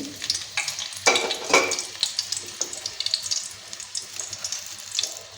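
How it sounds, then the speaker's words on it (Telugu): A couple of dried red chilies hit hot oil in a pan, giving a close crackling sizzle with several sharp spits and utensil clinks early on, then a softer, steady frying hiss. "ఆయిల్ వేడి అయిందండి. దీనిలో 2 ఎండుమిరపకాయలు"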